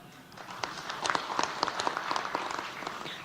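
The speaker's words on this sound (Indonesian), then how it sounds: "Tolong kalau tepuk tangan jangan ragu-ragu ya." A modest round of audience applause at a political speech by Indonesia's fifth president, quiet and scattered with a few sharper claps standing out, briefly filling the pause.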